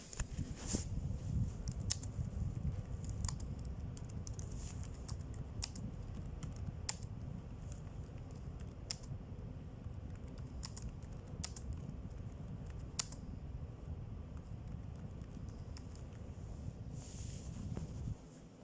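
Fingers type on a computer keyboard nearby in quick irregular bursts of clicks, with a low steady hum of fan or room noise underneath and no voices.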